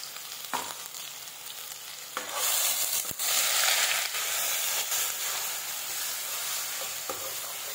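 Ground spice masala roasting in a kadai for butter paneer, a steady sizzling hiss that swells louder midway, broken by a few scraping stirs and clinks, close and continuous, with no talking.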